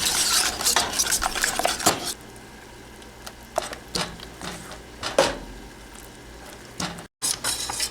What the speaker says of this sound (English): take it away from the heat and keep stirring to make it smooth textures